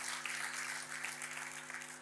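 Congregation clapping during a church sermon, a steady wash of many hands at low volume, even and continuous over a faint background hum, with no voices standing out.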